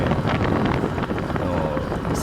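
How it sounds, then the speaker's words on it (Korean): Strong mountain-pass wind at Misiryeong, South Korea, roars across the microphone in a constant, heavy rush, buffeting without pause. "바람이 굉장히 거세게 불고 있죠. 바람 소리가 거칩니다."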